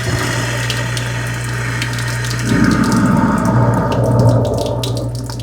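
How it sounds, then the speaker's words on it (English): A kitchen garbage disposal runs with water and a cleaner pack: a low motor hum under rushing tap water, growing rougher and louder about halfway through, continuous and close. "Just put it in there and you turn your garbage disposal on."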